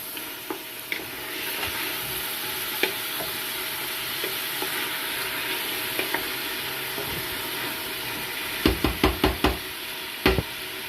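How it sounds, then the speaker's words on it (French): Kabyle meatballs sizzle steadily in a frying pan, with scattered light knocks of a spoon. Near the end comes a quick run of louder taps and scrapes against the pan; no one talks. "Il faut bien mélanger de temps en temps pour que ça ne colle pas en bas."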